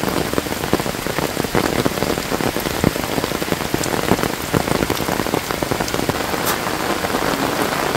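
Heavy rain from Typhoon Aghon pours steadily and densely, a loud continuous hiss of drops pounding surfaces close by, with no voices heard.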